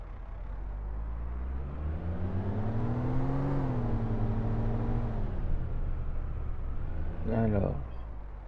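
A van engine in the video game City Driver revs up, its pitch climbing and holding steady before dropping off, while a voice speaks briefly near the end.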